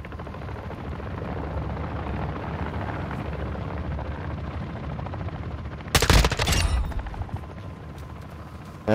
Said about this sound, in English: I got a helicopter coming in with more